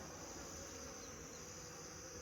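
Honeybees in a nuc hive, a faint continuous buzzing drone with a steady high whine, heard without any talking over it.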